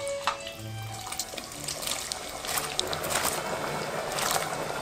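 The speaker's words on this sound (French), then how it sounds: "Là, mon huile est à 150 degrés, donc je vais plonger mes frites une première fois." French fries dropped into frying oil heated to 150 degrees give off a continuous bubbling, crackling sizzle with scattered pops, steady and close, with no talk over it.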